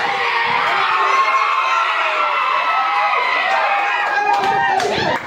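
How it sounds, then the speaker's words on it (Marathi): A crowd cheers and shouts together after a cricket match win, a dense, loud, continuous roar of many voices with whoops rising near the end. "चला जल्लोष झाला पाहिजे."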